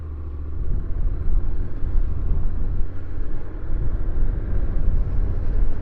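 Honda NC750X motorcycle riding on a morning road, a steady loud engine and wind rumble throughout with no break and no talking.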